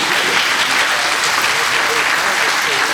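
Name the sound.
audience applause at a conservation talk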